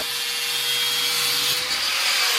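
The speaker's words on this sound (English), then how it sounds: "that was just a little diamond bit blade we used there to cut that with" A small diamond bit blade cuts an opening in a cargo trailer camper's ceiling for a roof fan, making a continuous, close, hissing grind and whine that runs unbroken throughout.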